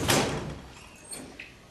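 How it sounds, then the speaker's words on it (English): A door is tried and bangs shut: one loud thud up front, then a few quieter rattles and knocks fading away, with no talking. "Let me try the door."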